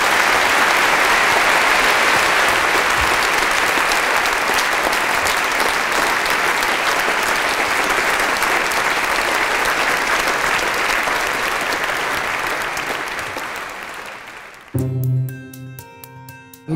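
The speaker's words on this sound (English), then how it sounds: "Please would you give Bill a thoroughly deserving round of applause." Sustained, loud audience applause for a speaker at a lecture event, a dense wash of clapping lasting about fourteen seconds before dying away into brief tonal sound at the end.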